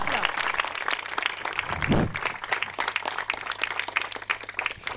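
A crowd at a night cricket tournament event in Rajapur applauds, with dense, rapid clapping that swells loudly around the middle and then carries on steadily to the end.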